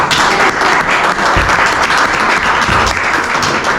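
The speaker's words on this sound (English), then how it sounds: "I want to at least give her one hand of applause here at the beginning" Loud, dense applause from an audience at a talk, many hands clapping close and continuously for the full span, with a couple of low thumps and no speech.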